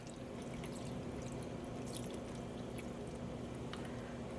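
Water poured into a small amount of leftover pistachio-colored yarn dye, a steady continuous liquid stream with light splashy drips, close and alone.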